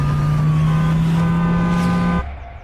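Animated police vehicle pulling away, a steady engine hum with a rising whine that stays loud and close for about two seconds, then cuts off to quiet.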